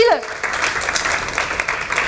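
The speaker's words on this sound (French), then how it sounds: "On peut l'applaudir quand même parce que c'est pas facile" A theatre audience breaks into steady applause for a performer at Peggy Le Guen's show, moderately loud and continuous, opening with a brief vocal sound before the clapping takes over.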